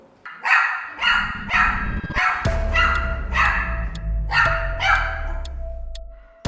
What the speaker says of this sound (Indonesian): Truffle itu selalu barking terus karena dia tidak suka diganggu sama anak perempuan tersebut.